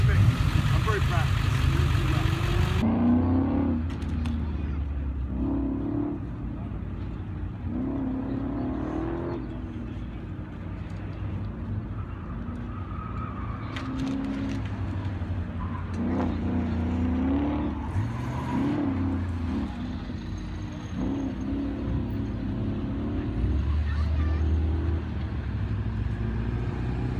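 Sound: Corvette driving an autocross track

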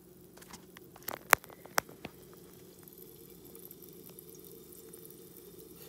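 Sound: citric acid cleaner bubbling on a hydrogen water generator panel

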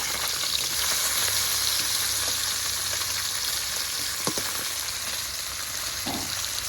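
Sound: puti fish frying in a pan

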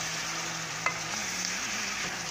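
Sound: stirring onions frying in pan

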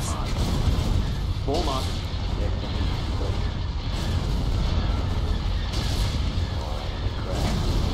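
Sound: starship firing on ships, from video game Thrawn's Revenge

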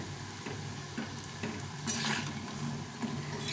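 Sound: frying mung lentil fritters

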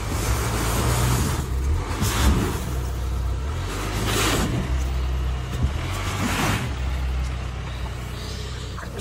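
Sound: car engine revving in snow, switched to 4x4

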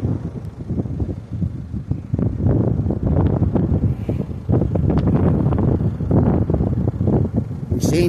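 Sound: wind outdoors on a mountain

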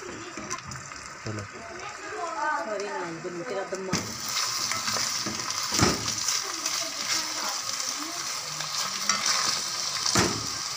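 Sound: onion and garlic frying in oil

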